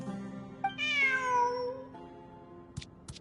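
A cat in a video game gives one drawn-out, rising-and-falling meow, clear and close in a quiet scene, followed by a couple of faint clicks.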